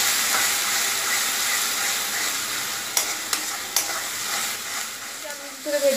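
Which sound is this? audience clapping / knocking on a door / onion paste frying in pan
onion paste frying in pan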